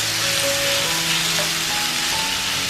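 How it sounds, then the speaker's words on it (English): Beef sizzles loudly in a hot stir-fry pan with black pepper and onion, a steady, dense frying hiss close up with no talking. "now we're gonna throw in the beef"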